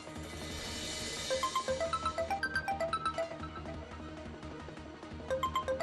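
A phone rings with a rhythmic, fairly quiet repeating electronic tone beneath background music in a household drama scene.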